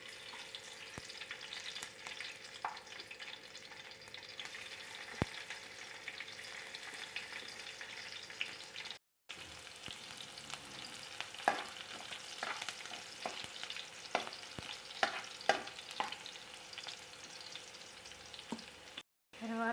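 Green chillies, onions and garlic fry in a pan with mustard seeds, a soft continuous sizzle with occasional pops and stirring clatter, steady and fairly quiet with no talk.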